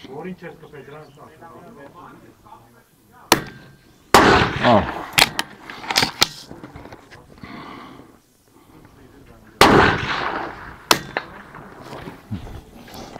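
Sharp gunshots from an ISSC SPA .22 LR pistol fired at targets, a handful of loud single cracks spaced irregularly, with people talking between the shots.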